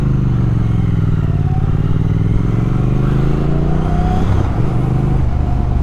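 A 2022 Triumph Speed Twin motorcycle being ridden, its engine droning steadily and loud up close with slight shifts in pitch as the rider rolls on and off the throttle, wind rushing underneath.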